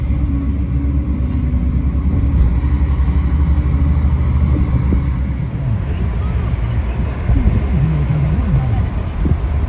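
Street traffic in Lima's Miraflores district on a Sunday morning, a steady low rumble of passing cars and engines with occasional louder vehicles, under a voice talking throughout.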